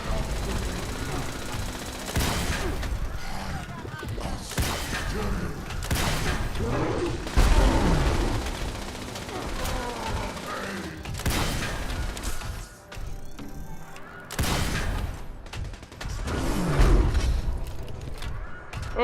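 Bursts of gunfire ring out in Fallout 76, several separate volleys of rapid shots with short pauses between them, loud and punchy amid mechanical clatter and a voice speaking faintly underneath.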